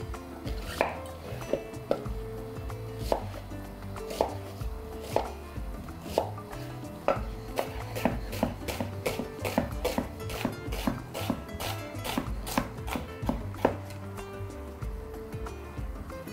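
Two medium onions are chopped finely with a knife on a wooden cutting board, a steady run of sharp, close knife taps repeating throughout over a faint background hum.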